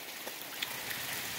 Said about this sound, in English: we've had pretty good rain this whole morning